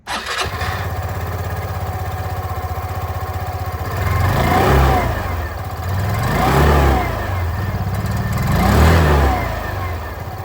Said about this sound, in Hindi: अब यहाँ पर जो एग्जॉस्ट साउंड है वो भी मैं आप लोगों को सुना दो।